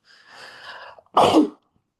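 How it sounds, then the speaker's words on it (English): A single sneeze up close: a drawn-in breath followed by a loud, sharp burst, then silence. "Excuse my sneeze coming up."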